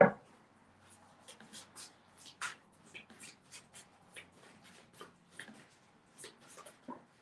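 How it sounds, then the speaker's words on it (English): Soft, quick riffling and slapping of cards being shuffled over and over in short bursts, close and quiet in a still room. "2 cards just popped out, so I'm gonna keep shuffling"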